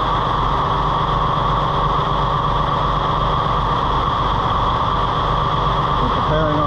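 An engine holds a steady idle at about 1,000 RPM during an alternator test, a continuous loud even hum and rumble with no change in pitch throughout.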